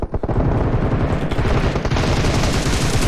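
Rapid automatic gunfire in PUBG Mobile, a dense sustained burst of shots at close range that fills the whole stretch with little pause and no talking.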